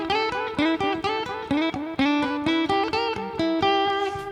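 Electric guitar riff, played as a quick rhythmic run of plucked notes with audible slides between pitches, loud and close with no talk.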